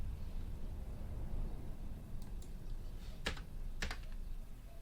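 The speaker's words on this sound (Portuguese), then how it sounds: "Deixa eu botar aqui. Vou dar um Enter." A few separate clicks from a computer keyboard, with one likely being the Enter key, sound faintly over a steady low room hum.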